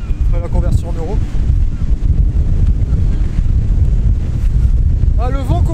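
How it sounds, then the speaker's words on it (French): Wind picking up outdoors, a steady loud roar buffeting the microphone throughout, with a voice speaking briefly at the start and near the end. "Ah, le vent commence à monter"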